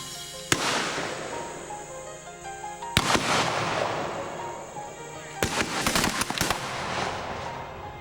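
Musket shots fired at a wooden stockade, a sharp close bang followed by ringing echo, a second loud report, then a rapid cluster of cracks, under faint background talk.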